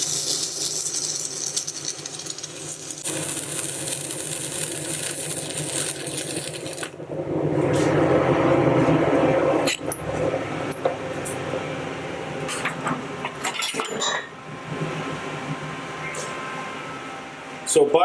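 Arc welding rod burning down inside a hole to remove a broken stud, a steady loud crackling hiss that shifts in character partway through, with brief breaks and sputters toward the end.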